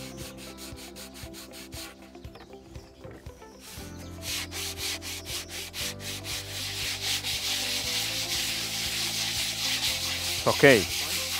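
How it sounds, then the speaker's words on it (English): Sandpaper rubbed over a wooden chapati board, repeated scratchy back-and-forth strokes, close and fairly loud, growing denser and more continuous partway through, with a brief spoken word near the end. "now we use a sandpaper to make it smooth"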